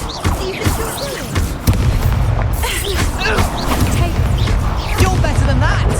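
An Expelliarmus disarming spell cast during a duel in Hogwarts Legacy, a loud booming magical blast with crashing impacts and whooshing effects, mixed with a character's voice and battle sounds.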